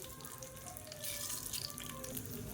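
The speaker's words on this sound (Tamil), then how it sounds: "கடுகு கருவேப்பிலை நல்லா பொரிய ஆரம்பிச்சிருச்சு" Mustard seeds and curry leaves splutter in hot sesame oil in a kadai, a faint hiss that grows into a busier, steady crackle of small pops after a second.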